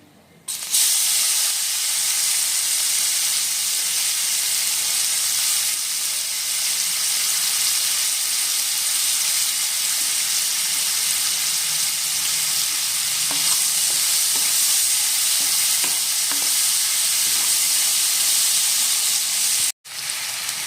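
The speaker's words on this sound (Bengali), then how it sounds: "আর এখন আমরা দিয়ে নেব আগে থেকে 250 গ্রাম পেঁয়াজ আমরা কেটে রেখেছিলাম, সেই পেঁয়াজ কুচি।" Chopped onions, 250 grams, hit hot oil with cinnamon and bay leaves for a Bengali mutton and potato curry, raising a loud, steady sizzle that runs unbroken for about twenty seconds before a brief cut near the end.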